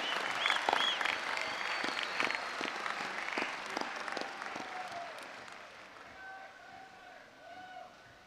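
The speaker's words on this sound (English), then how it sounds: "how about a round of applause for the class of 1976" Crowd applause at a West Point military academy graduation ceremony, strong at first then thinning and fading, with scattered whistles and cheers over the clapping.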